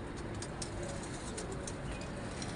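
Pigeons coo softly in the distance over a steady wash of broadband background noise.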